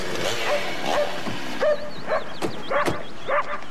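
A dog barks and yips in short, irregular bursts indoors, close and moderately loud, with faint voices in the background.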